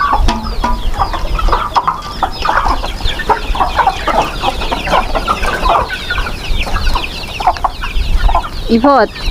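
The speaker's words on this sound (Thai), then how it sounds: "สิพาไปเบิ่งไก่เราทุกคน" Farm chickens clucking loudly and continuously close by, a dense overlapping chorus of short calls with a louder rising squawk at the very end.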